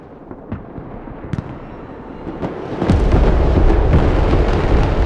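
Heavy artillery explosions in the video game Broken Arrow, scattered distant booms at first, then a loud rolling rumble of blasts that swells and persists to the end.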